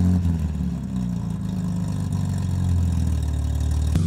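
A BMW 7 Series engine runs at a steady idle, a close, even low-pitched hum with faint harmonic rumble holding for several seconds.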